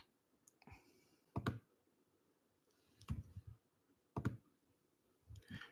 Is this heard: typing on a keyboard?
yes